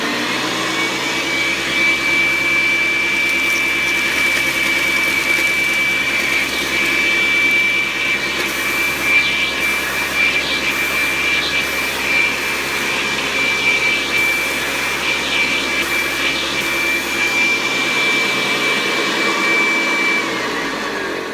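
A 1975 Hoover Senior Ranger U4002 vacuum cleaner running on high speed, a loud steady motor roar with a thin high whine on top, continuous and close for about twenty seconds before it begins to wind down.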